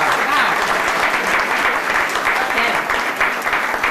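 Sustained crowd clapping for council members at a Pacifica Chamber of Commerce awards ceremony, a loud, even wash of many hands that keeps its intensity throughout, with a faint voice under it.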